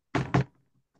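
Two quick, firm knocks on a door, close and clear, followed by quiet, in a stage play reading.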